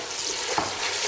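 Chili and tomato frying in a pan for kadhi pakora, a brief steady sizzle and hiss close by with a light stirring scrape.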